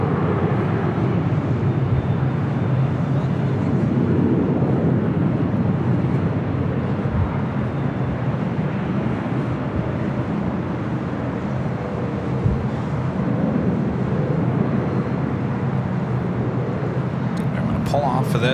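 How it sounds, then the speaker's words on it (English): Continuous deep rumbling roar of a 747-400 freighter jet arriving at LAX, loud and sustained, with voices talking over it throughout. "Collette Air flight 810 coming in from Mexico City, a 747-400 freighter"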